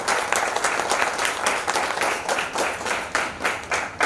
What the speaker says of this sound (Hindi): जोरदार तालियों के साथ हमारे डीडीजी सर का स्वागत किया जाए।